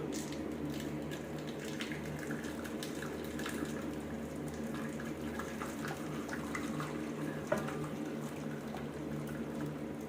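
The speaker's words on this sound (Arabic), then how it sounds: "تغلي ميه في الكتل، ميه مغليه، وتنزلي كده في حرف الصينيه" Boiled water poured from a kettle into a baking tray for homemade yogurt gives a continuous soft trickling and splashing, steady and close throughout.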